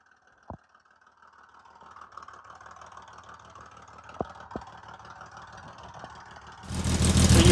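A 1970 Mercedes 280SE engine, exhausting through only its rear muffler, runs with a quiet, low idle rumble and a few sharp knocks, then surges much louder near the end.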